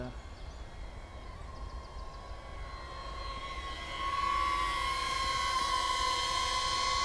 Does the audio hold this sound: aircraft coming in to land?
yes